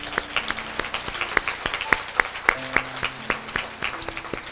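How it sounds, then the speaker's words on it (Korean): A church congregation claps together in a fairly regular rhythm during a worship service, the sharp, evenly spaced claps carrying steadily with a sustained musical tone underneath. "우리 박수 한번 하겠습니다."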